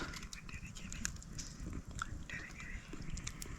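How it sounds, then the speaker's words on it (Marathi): A roasted crab claw from a crab caught in a stream during the rainy season is eaten up close, with soft, faint crunching bites and chewing. "मी बघ एकच खाणार आंगडा भाजून"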